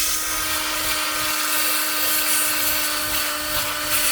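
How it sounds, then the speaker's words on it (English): A power drill fitted with a small sanding pad whines steadily at high speed as it grinds a thick coating off a flange face, a continuous loud buzzing with no pauses. "I just use one of these drills with a little sanding pad on it."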